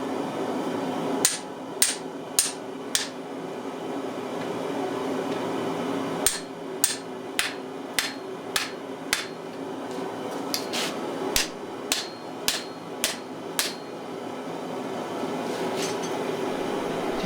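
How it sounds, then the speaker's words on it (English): Sharp ringing hammer blows forge welding an axe at a blacksmith's anvil, falling in steady rhythmic runs of four to six strikes separated by pauses, loud and close over a low background roar. "and then I'm just going to forge weld it together"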